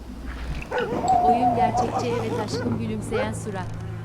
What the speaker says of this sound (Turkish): köpek var burada